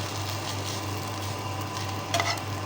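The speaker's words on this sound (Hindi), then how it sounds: "इसको आपने अभी मिक्स कर लेना है" A large spoon stirs a sriracha sauce mixture, making a soft, steady swishing over a low electrical hum, with a brief clink near the end.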